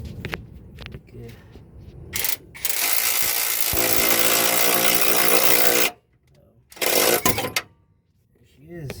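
A power tool on a 2010 Chevy Traverse drives a pulley puller with a loud, sustained whirring, ratcheting burst of about three seconds. Shorter bursts come before and after, with voices talking between them.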